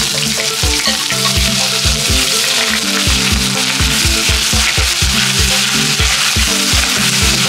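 Crushed garlic sizzling loudly in hot oil with mustard seeds and fenugreek for a fish curry, a steady dense crackle with some stirring throughout, no voices.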